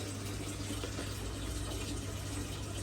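Water pours steadily into a drum filter system, a constant, dense rushing and hissing close by, unbroken throughout with no talk.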